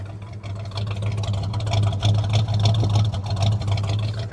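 A Chevrolet El Camino's engine runs at idle, a steady low throbbing rumble with slightly uneven pulses, heard alone at moderate volume.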